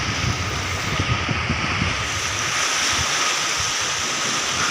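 Rough sea waves roar near the shore at Abu Dhabi, a constant close-up surf wash with wind buffeting the microphone.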